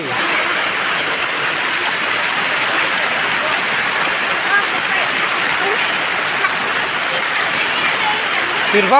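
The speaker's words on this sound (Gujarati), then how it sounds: "ધોધમાર વરસાદ પડી રહ્યો છે" Heavy rain pours down steadily in a dense, continuous hiss of drops hitting surfaces, loud and close throughout.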